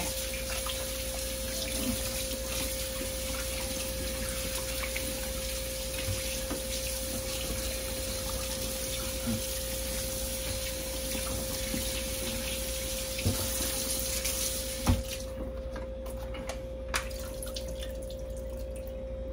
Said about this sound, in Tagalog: hugasan muna natin yung ribs natin guys